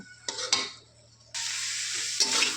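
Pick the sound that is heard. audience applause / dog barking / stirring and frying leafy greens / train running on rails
stirring and frying leafy greens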